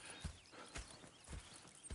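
Horse hooves clip-clop at a slow walk in Red Dead Redemption 2, a few soft, faint thuds spaced unevenly with no other sound.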